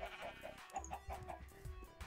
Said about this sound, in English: So there's chicken and cows and sheep out here.